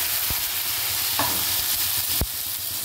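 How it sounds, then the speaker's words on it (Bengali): Spice paste frying in a cumin tempering makes a steady hiss and sizzle up close, with two sharp knocks of a utensil on the pan, and no voices. "যে মশলার পেস্টটা আমি বানিয়ে রেখেছিলাম সেটা এর ভেতর দিয়ে দিলাম"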